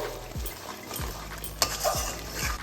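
A spoon stirs coriander powder and salt through simmering gravy for malai chicken kofta, with several distinct scraping strokes against the pot, close by, over a soft bubbling background.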